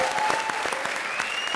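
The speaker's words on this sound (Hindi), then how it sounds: "ठोको ताली" An audience bursts into brief, lively applause, a quick run of crisp claps layered with a faint tonal sound, steady and close for just over a second.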